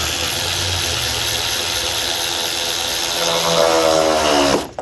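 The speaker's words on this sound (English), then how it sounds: "We'll go ahead and secure that down with a 10mm socket and just drive it all the way down." A powered socket driver runs a 10mm bolt down on the stock air box of a 2014 Ford Mustang GT 5.0. A steady, close whirring motor holds for several seconds, rises in pitch as the bolt seats, then cuts off abruptly.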